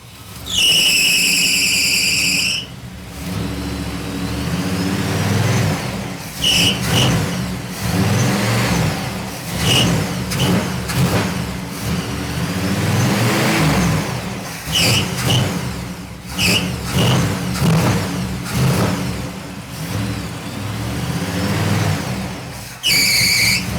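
A 1959 Pontiac engine idles roughly and revs in uneven swells, close and loud throughout, with brief high squeals at the start and end.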